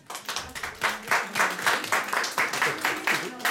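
Audience clapping at a Żabka talent show: a short burst of brisk, fairly soft applause with many hands beating in a loose, rapid rhythm.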